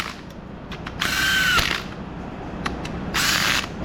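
Power tool running down engine bolts during an LS engine build for a 1968 Camaro barn find: two short whirring bursts with ratcheting clicks, near and fairly loud, separated by quieter shop background without talk.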